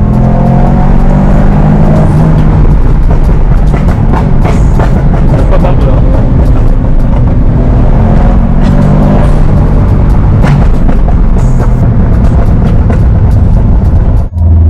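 Subaru Impreza WRX engine runs loud and close, a continuous throaty drone with rising revs, while people talk over it.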